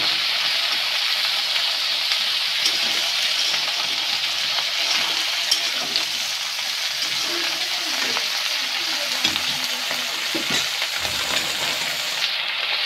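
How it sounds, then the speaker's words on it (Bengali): Fish curry with potato and eggplant being stirred in a pan, a loud continuous sizzle and hiss with occasional scraping and clinking of the utensil, close and steady throughout. "একটু নাড়াচাড়া করে ডেকে দেব।"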